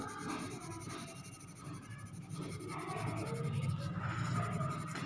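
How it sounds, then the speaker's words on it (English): Hard charcoal pencil shading lips on paper for a bridal portrait sketch, a soft continuous scratching and rubbing close up, quiet and steady with no talk. "You have to first of all shade all the part of the lips."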